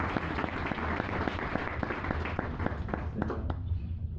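A church congregation applauds at a baptism service, a dense, steady wash of many hands clapping throughout, with a few louder individual claps standing out near the end.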